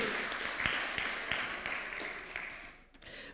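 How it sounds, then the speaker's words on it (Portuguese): A church congregation claps steadily through a worship celebration service, a dense wash of hands from a fairly large crowd that thins slightly toward the end, with a few scattered voices mixed in. "Você pode aplaudir a Jesus por isso?"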